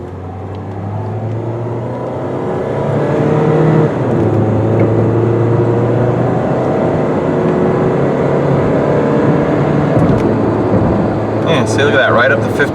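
A 2006 Saturn Vue FWD SUV accelerating on the road, heard from inside the cabin as a smooth, steady engine drone and road rumble that builds slightly, with a faint clatter near the end.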